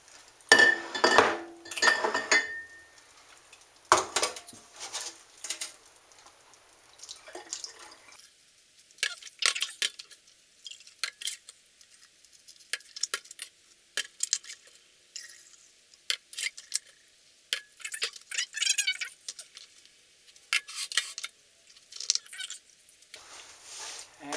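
A strainer, a glass jar and a bowl are washed by hand in a kitchen after making kombucha: intermittent clinks and clatters of dishware with splashing, dripping water, close by and with no talking.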